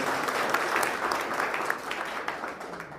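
A crowd applauds steadily, a dense wash of clapping that holds strong for about three seconds before easing slightly at the end.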